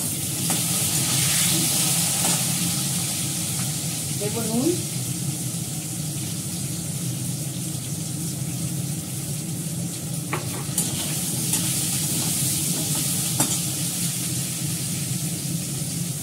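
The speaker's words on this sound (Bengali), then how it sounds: "আলুটা দিয়ে দিলাম, একটু ভাজা ভাজা করে নেবো।" Diced potatoes fry in hot oil with asafoetida in a home kitchen pan, giving a steady, continuous sizzle throughout with occasional stirring scrapes, while a voice speaks briefly over it.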